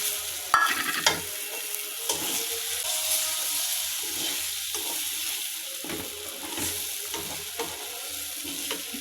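Egg bhuna masala stirred and frying in a pan, a close steady sizzle with intermittent scraping and knocking of the spoon as it moves the mixture, no voices heard.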